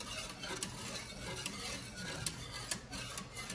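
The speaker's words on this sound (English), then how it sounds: "We still stirring, y'all." Banana pudding is stirred in a nonstick Emeril Lagasse pot, giving a continuous soft scraping and swishing with faint regular ticks of the utensil against the pan, close and steady.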